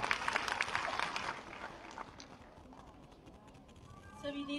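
Applause at a launch event in Lucknow for Yashoda, a dense burst of clapping that is loud at first, then fades to a sparse patter before a voice starts speaking.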